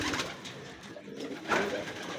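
Racing pigeons cooing in a loft, soft throaty coos repeating close by over a continuous rustling background, with no voices.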